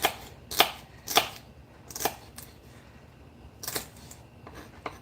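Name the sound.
knife finely chopping ingredients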